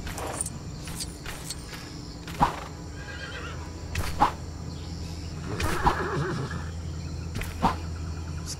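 A horse in LEGO Worlds gives several short neighs over a steady low background hum, the calls spaced irregularly and moderately loud.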